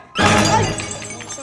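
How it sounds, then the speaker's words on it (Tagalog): An expensive item breaks and shatters with a loud crash at the start, its glassy debris ringing and scattering for about a second before tailing off, while voices are heard underneath. "Nabasag ang hayop."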